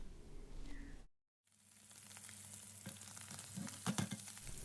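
Steady sizzling of meat frying in butter with salt in a pan, a brief silent gap early on, then continuous crackle with a few louder pops near the end.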